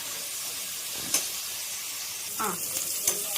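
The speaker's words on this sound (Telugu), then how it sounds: "ఇప్పుడు పచ్చిమిర్చి ఉల్లిపాయలు వేసుకోవాలి ఒక ఫైవ్ మినిట్స్ ఆనియన్స్ ఇవన్నీ బాగా వేగాలి" Onions and green chillies fry in a pan for coconut rice, a steady broadband sizzle with a few brief stirring scrapes and clicks, close and without talk.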